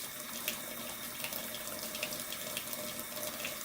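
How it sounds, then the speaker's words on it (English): Hands are washed with soap under a running tap, with a steady stream of water splashing into a sink, close and even, with faint rubbing and splashes through it. "we're going to put some soap on our hands, and we're going to go in a circular motion, get some lather"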